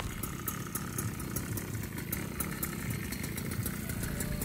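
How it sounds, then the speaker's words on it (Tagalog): A 71cc stand-up scooter engine fitted with a new stainless exhaust pipe idles steadily nearby, a continuous low putter with the throttle blipped now and then to keep it running. "Binobomba-bomba ko lang kasi baka mamatay yung makina"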